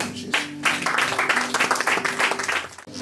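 A church congregation applauding during a service, steady loud clapping that fills the room for about three seconds with crowd voices underneath.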